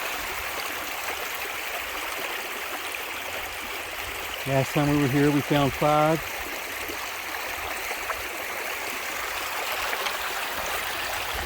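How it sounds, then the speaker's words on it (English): Creek water flowing and trickling steadily close by in Mammoth Cave country, a constant soft wash with someone briefly speaking over it midway. "here we are, back in the creek."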